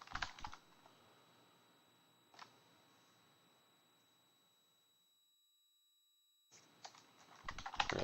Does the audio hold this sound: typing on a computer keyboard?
yes